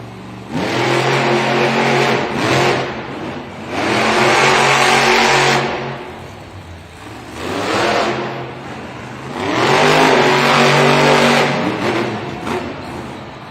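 Monster truck engine at a Monster Jam stadium racing event in Oakland, revving loudly in three long surging bursts with brief dips between, close and dominant with no talk.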